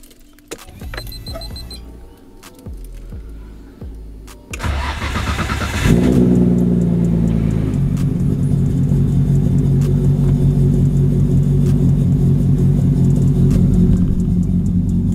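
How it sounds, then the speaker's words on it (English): An R32 Nissan Skyline GT-R engine with new cams cranks and starts, then settles into a steady, loud idle rumble heard up close, alone without voices. "I'm going to take the GTR for its first drive"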